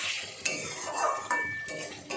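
A spoon stirring garam masala into a prawn curry with curd and pointed gourd in a metal pan, scraping and clinking against the pan in a few sharp knocks, close and without talk.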